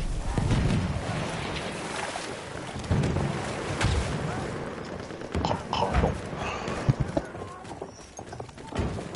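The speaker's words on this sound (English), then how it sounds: "I hear the horses." Horses gallop in the Battlefield 1 video game, their hooves pounding in uneven bursts of clip-clop amid battlefield noise, loud and close. Voices talk over them.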